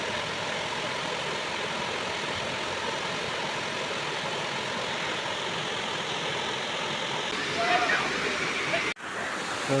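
Vattakanal waterfall in Kodaikanal pours in a steady, loud broadband roar filling the whole stretch, with a brief splash and a sudden dip near the end.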